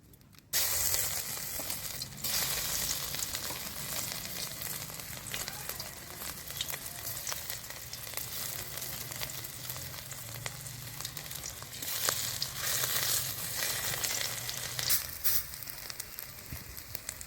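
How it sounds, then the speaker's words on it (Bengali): Fritters (bora) fry in a little oil in a wok over a low flame, making a continuous moderate sizzle and crackle with occasional brief knocks, and no one speaks. "একটু অল্প তেলে ভাজতে হবে ছাঁকা তেলেও ভাজতে পারেন কিন্তু এরকম করলে খেতে আরও ভালো লাগে"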